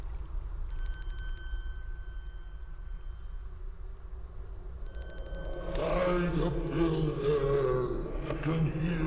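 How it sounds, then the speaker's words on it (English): A bell rings inside the video game Broken Triad, heard as two bursts of bright metallic ringing separated by a short pause, over steady background ambience with music or voices rising in the second half. "I can hear the bell ringing."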